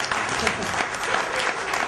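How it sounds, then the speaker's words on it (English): An audience at a talk on the Mahabharata claps steadily and densely for the whole stretch, with a crowd murmur blended under the applause. "Give a good clap for"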